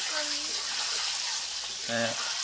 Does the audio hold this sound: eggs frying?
yes